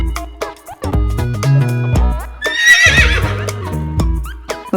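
A toy horse gives a loud electronic neigh and whinny that rises into a shrill, shaky whinny over several seconds, close and alone.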